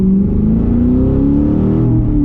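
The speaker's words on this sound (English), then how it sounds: "I know there are a few options out there for exhaust for the C7" A C7 Corvette Grand Sport engine revs steadily through an AWE Track Edition exhaust, a loud, deep exhaust drone rising slightly in pitch, continuous and close, with no voices.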